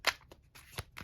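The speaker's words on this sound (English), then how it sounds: "Those cards are very hard to shuffle." A few quick, soft riffles and taps come from a deck of tarot cards being shuffled by hand. The bursts are short and uneven, close up in a quiet room.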